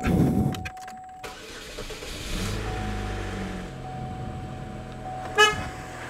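A GM 2.2-liter Ecotec four-cylinder in a Chevy Cavalier or Pontiac Sunfire cranks over briefly after a fuel pump replacement, then catches and settles into a steady idle, close and alone, with a short sharp chirp near the end.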